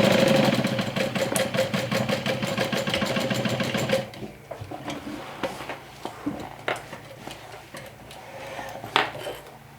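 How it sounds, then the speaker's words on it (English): A sewing machine stitching a fabric sling runs in a fast, even rattle for about four seconds, then stops, leaving softer handling clicks and rustles up close. "I just prefer to sew it with my machine."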